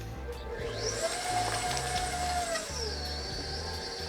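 Electric mixer whirring through triple berry cheesecake batter, a steady motor drone with a pitched whine that holds and then drops as the speed changes, close and continuous with no talk.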